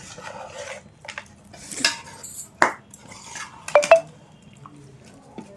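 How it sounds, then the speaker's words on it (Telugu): Homemade biryani ingredients with yogurt are stirred in a pot, with scattered scraping and clinks of a utensil against the vessel, a few sharper knocks among quieter stretches. "దీన్ని మొత్తం ఇందులో వేసేసి ఇది మిక్స్ చేయాలి."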